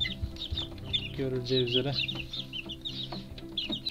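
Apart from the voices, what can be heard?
chicks chirping while being hand-fed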